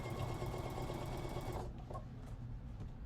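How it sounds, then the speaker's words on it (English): A sewing machine fitted with a denim needle stitches lace and sequins onto a denim jacket, a steady, close, loud whirring hum that stops partway, leaving quieter handling noise. "I have a denim needle on, but it's still not too keen about going through these sequins"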